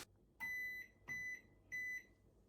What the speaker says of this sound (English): If you want to get rid of that annoying beep every time you turn the dial